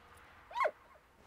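A dog in the World War I video game Valiant Hearts gives a single short yip or whimpering bark, close and fairly faint over a quiet background, with the start of another yelp at the very end.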